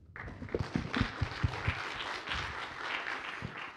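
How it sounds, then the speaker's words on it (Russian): At a student tech startup demo day, an audience breaks into applause that starts with a few distinct nearby claps and swells into a steady, moderately quiet round of clapping. "я думаю, это достойно аплодисментов"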